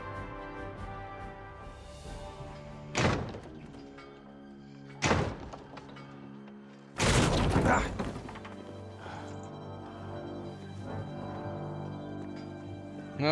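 A door being locked shut in the video game Kingdom Come: Deliverance, with three heavy wooden thunks spaced apart and the last the loudest, over a low ambient hum.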